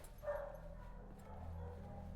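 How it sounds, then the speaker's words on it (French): A German shepherd dog whimpers softly, with a brief higher whine near the start followed by faint low whimpering, heard close and quiet over a low background hum. "C'est une gentille chienne."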